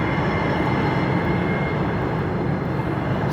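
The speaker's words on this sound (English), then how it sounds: "This is a train." A train rolls past at a railway junction, a steady, loud rumble with dense low-end roar and clatter that holds constant throughout, with no voices over it.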